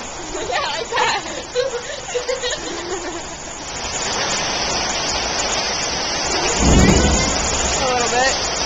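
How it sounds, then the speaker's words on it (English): A steady rush of rain during a storm, broken by a heavy low boom of thunder. Children's voices talk excitedly over the downpour early on before the rain takes over. "I know, the thunder just goes boom."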